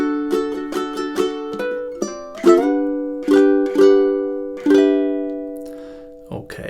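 Measures five to eight of a cheerful summertime chord melody on ukulele, a run of quick strummed chords followed by slower ringing ones, each sustaining and fading, played solo and up close.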